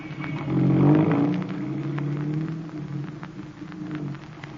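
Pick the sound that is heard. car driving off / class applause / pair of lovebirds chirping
car driving off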